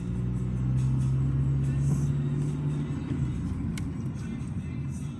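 A car being driven on a test after a brake replacement gives a steady low engine rumble with a brief tonal hum, close and continuous with no clear revving.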